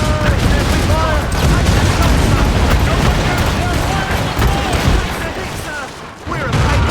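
Ship cannons boom in a naval battle in Assassin's Creed Rogue, set in 1758, as dense rolling volleys of heavy gunfire in a loud continuous battle din, with shouted voices throughout.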